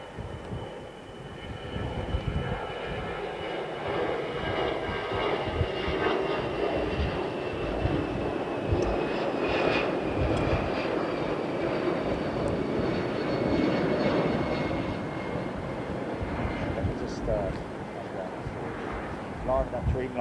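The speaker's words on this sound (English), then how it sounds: "That Dreamliner's going already." Boeing 787 Dreamliner departing Heathrow runway 27R, a broad distant jet roar that swells and lingers, with casual talk from people nearby over it throughout.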